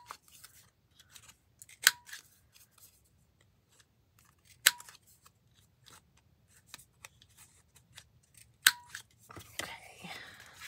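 Scissors snipping paper to round its corners for a craft pocket project, three distinct close cuts spaced a few seconds apart amid quiet rustling, ending with soft paper handling.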